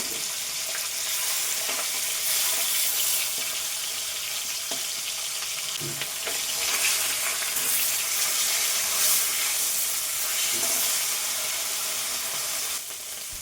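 Snakehead (shol) fish head frying in oil in a kadai, a continuous bright sizzle and crackle held steady for several seconds, with faint clinks and no talking.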